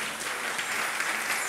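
A church congregation breaks into dense, continuous applause, a broad steady clatter of many hands filling the room.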